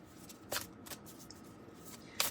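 A deck of Lighted Gold Pathway Oracle cards being shuffled, with two short, crisp riffling bursts about two seconds apart and faint handling between them, close and quiet.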